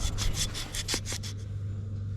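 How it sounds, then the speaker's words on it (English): Quick rhythmic scraping strokes of sandpaper on ex-army Unimog parts, about eight back-and-forth rubs, then it stops, leaving a low hum. "So now, more sanding of the other parts."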